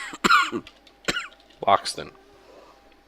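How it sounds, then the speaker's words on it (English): A person coughs several times in short harsh bursts, with throat clearing, separated by brief pauses, close to the microphone; a voice speaks a word between the coughs. "I apologize for the coughing that I do every now and then."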